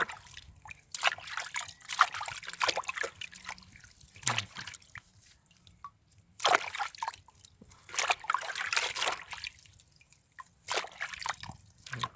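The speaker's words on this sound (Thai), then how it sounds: "ล้างยากแล้วก็ค่อยๆล้างไปค่ะ นี่ค่ะค่อยๆล้าง" Water running and splashing while dandelion roots are rinsed by hand, with intermittent trickling and dripping bursts, sloshing handling sounds and brief pauses, close and moderately loud.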